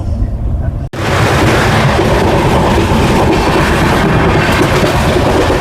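The 12517 UP Kolkata–Kamakhya Garib Rath Express running at full speed near 110 km/h, a loud, dense rumble and rattle of the coach with rhythmic wheel clatter, broken by a momentary dropout just before the first second.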